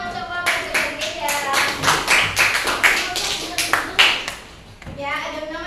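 Classroom of children clapping together for a group during a teaching session, a quick rhythmic burst of close claps lasting several seconds, with a voice and talk starting as it fades.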